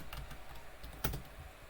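Fast typing on a computer keyboard, with quick light clicking keystrokes in an irregular run and one slightly harder press near the middle, quiet and close.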